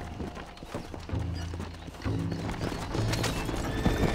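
Horse hooves clip-clop in a race in Red Dead Redemption, a steady, rhythmic trotting that grows louder and busier as several horses run together, with an occasional whinny and no talking.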